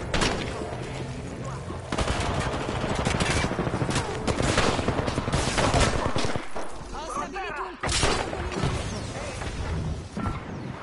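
Enemy gunfire in a PS5 game, with heavy overlapping shots and rapid bursts packed close together, loud and continuous, along with crashes and impacts, while a voice talks over parts of it.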